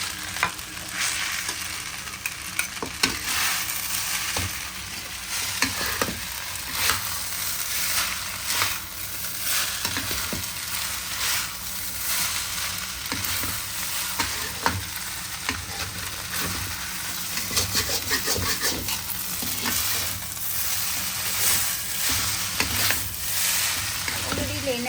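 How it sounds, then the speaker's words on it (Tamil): Singapore rice noodles with soy sauce being stirred and tossed in a hot pan, a steady soft sizzle with scraping stir strokes throughout, close and fairly quiet, with no talking. "இந்த ரெண்டுத்தையும் இதில் போட்டு இப்போ மிக்ஸ் பண்ணிட்டு போகிறோம்."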